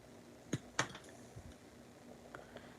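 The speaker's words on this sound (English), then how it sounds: "cut this with my nippers" Stained glass snipped with nippers in a studio, two sharp, close clicks early on, then a few fainter ticks over a low, steady hum.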